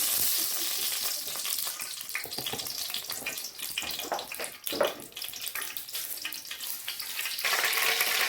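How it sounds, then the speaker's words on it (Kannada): Mustard seeds, urad and chana dal and curry leaves fry in coconut oil for a tempering, giving a close continuous sizzle and crackle with occasional stirring scrapes and a brief dip midway. "ಒಂದು ಚಮಚ ಸಾಸಿವೆ ಉದ್ದಿನ ಉದ್ದಿನಬೇಳೆ ಕಡಲೆಬೇಳೆ ಕರಿಬೇವು ಎಲ್ಲ ಹಾಕ್ಕೊಂಡು ಚೆನ್ನಾಗಿ ಫ್ರೈ ಮಾಡ್ಕೊಳ್ಳೋದು"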